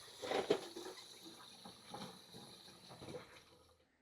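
Faint tap water runs in a kitchen sink as strawberries are rinsed, a soft, uneven splashing patter that fades out at the end.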